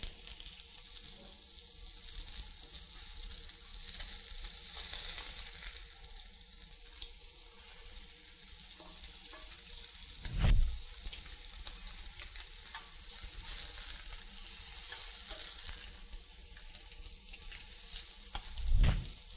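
Meat or fish sizzles on an oiled griller in a steady, close, crackling fry that runs throughout, with two brief soft thumps along the way.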